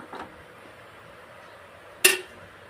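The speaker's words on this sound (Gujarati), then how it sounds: "હાલો હવે આમાં કડાઈ મૂકી દઈએ" A kadai (wok) is set down on the stove for cooking tindora and potato curry, a faint knock followed by one sharp metallic clank in a quiet kitchen.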